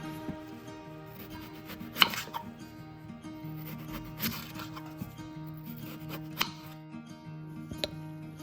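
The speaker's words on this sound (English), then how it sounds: "Wash the potatoes well and cut them into wedges." Potatoes are cut into wedges on a board with a knife, giving sparse, sharp chopping knocks at close range over soft background music, without any talking.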